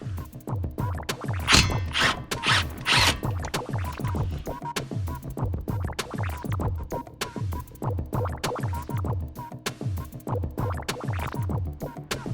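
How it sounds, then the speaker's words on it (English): 12mm socket ratchet working a bolt loose on a 2017-2021 Honda Civic hatchback, a rapid, rhythmic series of scratchy clicks and scrapes, close and continuous throughout. "Use 12mm socket to remove the bolt here."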